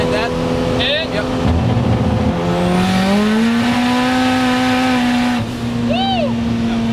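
A 600 HP Ford Escort fitted with a Miata engine and a big turbo accelerates from a roll start, with a loud, close engine climbing steadily in pitch, a brief shift dip and turbo whine, then settling near the end.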